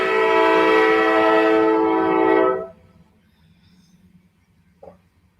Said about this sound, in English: Okay, he's done with the horn